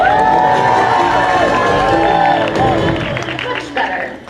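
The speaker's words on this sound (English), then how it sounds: "Let's hear a practice cheer for Team Kato." A crowd cheers and claps for a practice cheer at a dog agility show, loud and dense at first, then gradually fading, with voices and whistle-like shouts mixed in.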